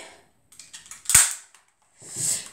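An airsoft gun fires in semi-automatic mode with one sharp, loud, close crack, preceded by small clicks and handling noises and followed by a hissing burst. No one talks.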